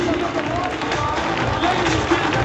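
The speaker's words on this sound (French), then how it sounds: "On applaudit." An indoor crowd applauds after a public self-defense demonstration, a steady, dense roar of clapping that stays loud and even throughout.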